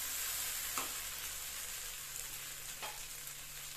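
Vegetables for Indian-style pasta sizzle steadily in a pan, a loud constant frying hiss with a couple of brief stirring scrapes and no speech.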